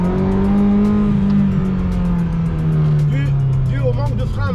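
A Ferrari F355 Challenge engine runs loud and steady with a rising, falling rev, accompanied by voices talking over it, before the pitch drops near the end.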